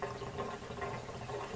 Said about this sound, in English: you'll hear the air rushing into the water heater, and the water will start draining out at a pretty rapid rate